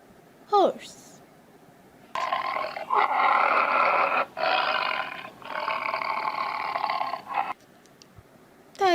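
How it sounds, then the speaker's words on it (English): A tiger lets out deep, rumbling roars in several long, loud bursts separated by short pauses, with a spoken word just before and after. "tiger"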